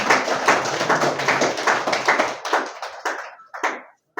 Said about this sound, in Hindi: एक बार इनके तालियां बजा दे भाई।